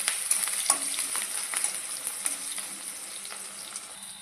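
Chopped onions frying in hot oil are stirred, giving a steady close sizzle with irregular scraping and tapping strokes from the utensil against the pan and no talking.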